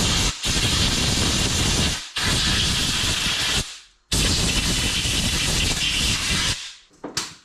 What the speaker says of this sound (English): I've grabbed a little air, compressed air, nothing fancy. Get your safety glasses on, and then you can blow this out.